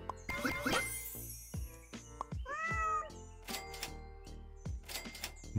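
A cartoonish cat meow sounds in the Super Auto Pets video game, a short rising-falling mew amid chimes, clicks and jingling interface effects, clear and close with no talking.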